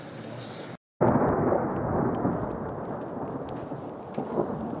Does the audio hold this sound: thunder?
yes